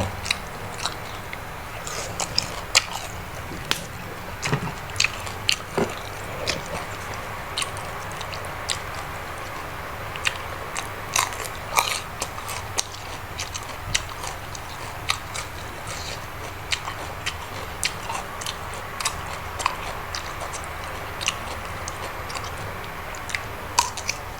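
Crispy pork belly being bitten and chewed up close, with sharp crunchy cracks scattered irregularly over a long stretch against a faint background hum.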